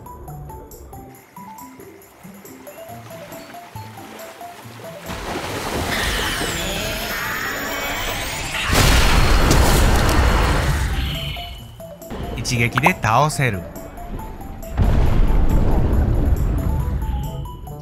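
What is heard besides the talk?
Kamehameha blast in the video game Fortnite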